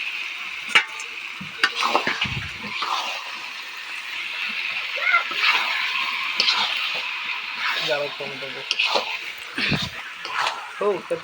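Chicken pieces with potatoes being sautéed in a pan for a home-style meat curry, a soft sizzle broken by scraping stirs and occasional clatter, with a voice talking over much of it.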